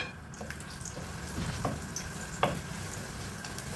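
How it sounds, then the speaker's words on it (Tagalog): Garlic sautéing in about a third of a cup of oil for a chicken Bicol Express, a soft, steady sizzle with occasional stirring clicks and scrapes, fairly faint and without talk. "syempre igigisa muna natin yung bawang"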